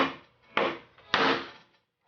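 A chisel is driven into wood to chop a mortise: three heavy, close mallet blows, each a sharp crack that fades quickly, with short quiet gaps between them.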